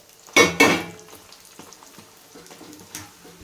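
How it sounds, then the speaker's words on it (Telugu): Stuffed mirchi bajji chillies stuffed with fig powder go back into hot oil for a second deep fry, two sharp splashing sizzles as they drop in, then a quieter steady bubbling. "ఇప్పుడు ముందుగా అదే ఫ్రై చేసుకున్న బజ్జీలు కూడా ఇంకోసారి వేసి ఫ్రై చేయాలండి"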